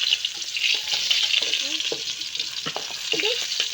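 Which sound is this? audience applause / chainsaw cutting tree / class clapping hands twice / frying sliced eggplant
frying sliced eggplant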